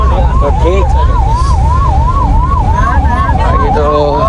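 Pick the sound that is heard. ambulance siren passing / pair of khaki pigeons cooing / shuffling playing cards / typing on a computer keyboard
ambulance siren passing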